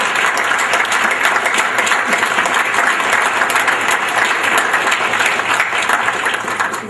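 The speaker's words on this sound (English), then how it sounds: "Join me in giving them a round of applause." Audience at a Gale Scholars induction ceremony applauding the inductees' families, sustained dense clapping from a crowd, loud and even for several seconds before tapering slightly at the end.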